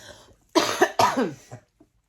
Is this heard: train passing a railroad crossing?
no